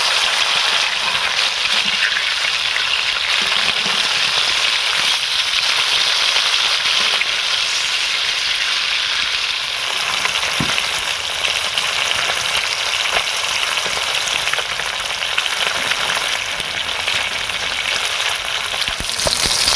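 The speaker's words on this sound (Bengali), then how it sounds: "উল্টে আর এক পিঠ ভালো করে ভেজে নেব।" Bhola fish fries in hot oil with a loud, steady, close sizzle that runs unbroken for about twenty seconds. Occasional sharper spits and pops cut through, and no one speaks.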